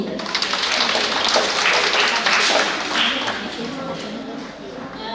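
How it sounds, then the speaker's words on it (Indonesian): A church congregation at a Sunday service claps for the choir with broad, dense applause that fades slightly toward the end, fairly loud, mixed with some voices. "Tepuk tangan untuk itu."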